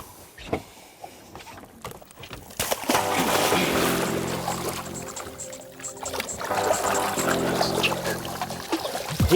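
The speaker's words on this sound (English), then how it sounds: "Let's get him back in the water there, David." Water splashes and churns beside a boat as a tarpon is released off the Georgia coast, a burst of sloshing that builds and continues for several seconds, near and fairly loud.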